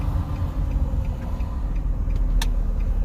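A car with a little over 150,000 miles hums steadily with low engine drone and road rumble from inside the cabin while driving, with faint ticks and no talk.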